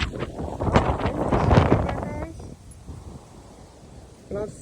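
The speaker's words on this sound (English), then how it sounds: "really windy out here today" Brisk wind gusts across an open outdoor spot in New York City on a cool autumn day, a broad roaring buffet on the microphone that swells and then eases, with a short burst of something else near the end.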